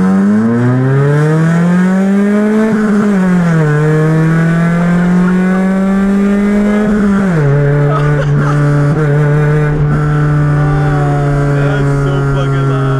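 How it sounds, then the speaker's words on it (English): Loud engine of a $1,200 Honda Civic EG accelerating hard on a test drive, rising in pitch through a gear, dipping on the shift, then holding a steady drone close by. "So there's only really one thing left to do, which is to go take it out for a test drive."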